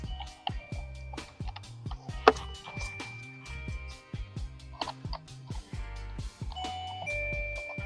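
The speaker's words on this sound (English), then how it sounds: "It's gonna go ding dong again, so be ready." Radar motion sensor alarm plugged in, chiming a repeated electronic ding-dong doorbell tune in a steady melodic sequence, fairly quiet and close with no talking over it.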